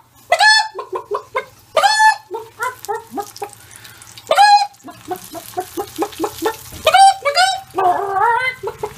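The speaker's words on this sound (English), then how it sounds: "You can hear the chicken bark." Loud, close chicken clucking in rapid bursts, with several agitated squawking calls rising above the repeated clucks.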